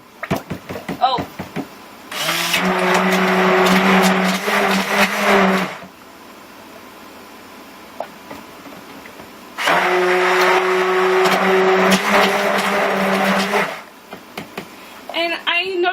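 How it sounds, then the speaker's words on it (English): A hand blender whirs loudly through soap batter while mixing in kaolin clay, running in two long bursts of steady motor drone with a quieter gap between them and some handling clatter around them. "I have added my kaolin clay, so let's mix that in."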